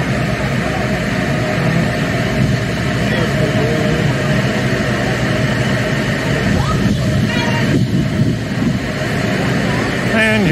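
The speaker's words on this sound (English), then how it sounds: "Sorry about the noise, but it's a ship." Steady, loud onboard drone of a ship under way while sailing, a dense broadband rumble that fills the whole clip, with a few faint clinks and voices in the background.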